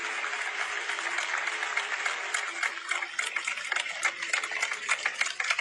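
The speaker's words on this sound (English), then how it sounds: "You realize what they're applauding, right?" A crowd applauds in a continuous patter of clapping that sounds thin and somewhat distant, holding steady throughout.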